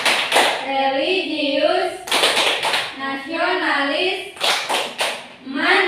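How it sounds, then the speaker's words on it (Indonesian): Schoolchildren in a sixth-grade class perform a rhythmic clap routine, bursts of group clapping alternating with chanted recitation of words. "Oke, tepuk PPK."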